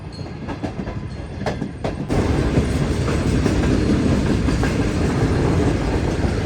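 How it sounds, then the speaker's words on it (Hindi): Shah Hussain Express pulling out of Toba Tek Singh station, quiet rail clatter and a few squeaks rising into a louder steady rumble of wheels on track as the train gets moving. "टोबा टेक्सन से निकल रही है ट्रेन इस वक्त"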